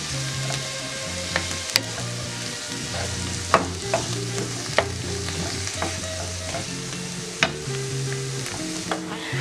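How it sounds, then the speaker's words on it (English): Shrimp sizzles steadily in a pan over a medium flame while a utensil stirs it, with occasional sharp clinks and scrapes against the pan and no one speaking. "Go ahead and start sauteing"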